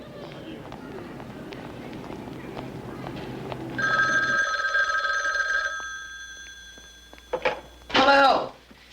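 A telephone on a call rings in a film scene, a steady electronic trill lasting a couple of seconds, then a shorter burst later, heard over background sound and voices.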